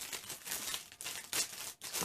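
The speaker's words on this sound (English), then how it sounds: "Out of a little plastic bag here." A plastic bag crinkles and rustles up close, with a few sharper crackling bursts over about two seconds.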